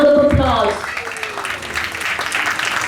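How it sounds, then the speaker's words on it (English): An audience at a school Mother's Day session gives a round of applause for the mothers present, the clapping rising under a voice at the start, then continuing as a moderate, steady patter. "big round of applause"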